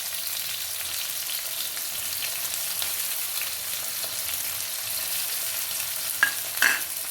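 Dried shrimp fry with onions and green chilies for a Telangana-style tomato curry, a steady close hiss of sizzling oil with a few sharp clinks of a spoon near the end.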